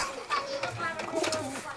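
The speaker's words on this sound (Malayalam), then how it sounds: "ഇതാണ് നമ്മുടെ പ്രാവ്" A pigeon coos nearby in soft, low, throaty calls, with other faint bird sounds around it.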